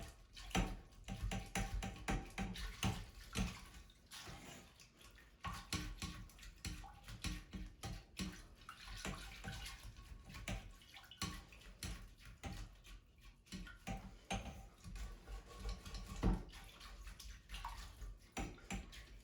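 A silicone toilet brush scrubs inside a toilet bowl in quick, irregular, watery swishes and scrapes, close and fairly faint, with no talk.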